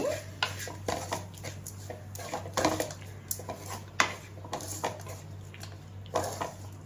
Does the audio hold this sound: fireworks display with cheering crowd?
no